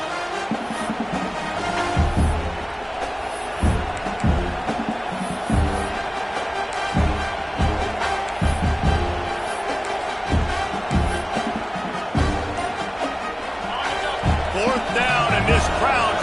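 Football stadium crowd noise during a defensive stand in the second quarter, a steady roar with swelling cheers and thumping bursts throughout, heard beneath a commentator's talk.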